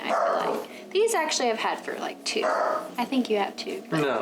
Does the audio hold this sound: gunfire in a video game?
no